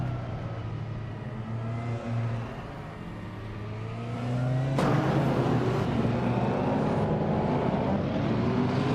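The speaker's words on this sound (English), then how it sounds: "the race is just kicking off at Circuit of the Americas" A 1988 Porsche 944 Turbo races at Circuit of the Americas, its engine droning steadily then swelling louder as it accelerates, the pitch sliding upward in sustained revs, with no talk.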